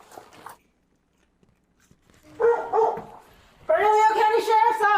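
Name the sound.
dog barking inside house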